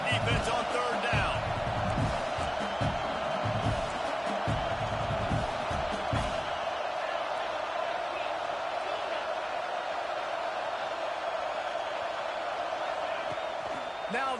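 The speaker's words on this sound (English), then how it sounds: "Decibels rising as the crowd gets behind this defense on third down." A football stadium crowd during an Auburn game on third down, roaring as a dense, continuous wall of noise, with scattered thumps early on and voices mixed in.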